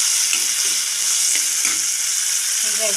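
Onion and tomato fry in a couple of spoons of oil in a pan, a loud, continuous sizzle up close with occasional stirring scrapes and no talk.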